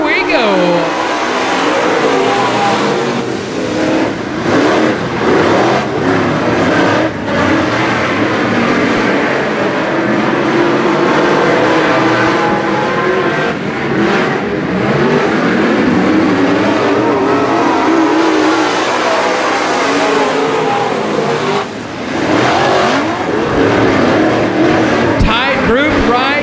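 A pack of race cars at the 2017 Texas Grand night race roars off at the green flag start. Dense, loud engine noise builds and holds throughout, while a commentator talks over it.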